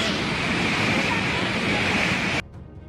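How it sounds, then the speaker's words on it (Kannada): Muddy flood water pours off a hillside after a cloudburst in Rampur, Himachal Pradesh, a loud, steady broadband roar that runs unbroken and then drops off abruptly near the end. "ಬೆಟ್ಟದಿಂದ ಉಕ್ಕಿ ಬಂದ ಕೆಸರು ಮಿಶ್ರಿತವಾದ ನೀರಿನಿಂದ 25ಕ್ಕೂ ಹೆಚ್ಚು ಕಾರುಗಳು ಕೊಚ್ಚಿಕೊಂಡು ಹೋದ ಭಯಾನಕ ದೃಶ್ಯ ಸೆರೆಯಾಗಿದೆ"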